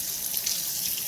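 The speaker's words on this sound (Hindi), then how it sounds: "अब हम इसमें थोड़ा सा ठंडा पानी डालेंगे" Cold tap water runs over drained, boiled noodles for Chicken Hakka Noodles, a steady close hiss of pouring and splashing with no voices.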